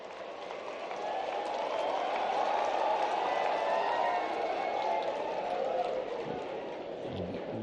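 Audience applause for BAMS students at a public event with the Madhya Pradesh chief minister: broad, steady clapping from a large crowd holds at even loudness throughout, with faint voices mixed in.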